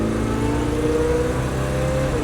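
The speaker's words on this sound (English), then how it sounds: "You hear that supercharger ready?" A supercharged engine in a 1948 Plymouth streetrod revs steadily up close, a loud, continuous mechanical roar with a sustained whine throughout.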